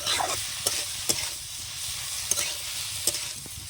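Metal spatula stirring a pumpkin and potato curry in a pan, with steady broadband sizzling and a few sharp scraping clicks spaced irregularly through it, close up and fairly quiet with no talking.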